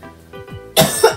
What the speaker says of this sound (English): I have a little bit of cough, but whatever.